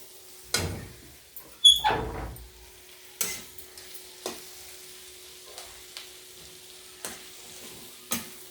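Broad beans frying in a pan, a soft low sizzle under a few scraping stirs and sporadic light taps of the utensil against the pan, close and otherwise quiet.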